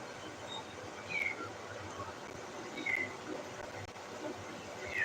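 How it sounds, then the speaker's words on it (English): A cat shut away in another room whines in a few faint, brief, high cries spaced apart, distant under a steady low room hum. "My cat is locked away, and so he is whining."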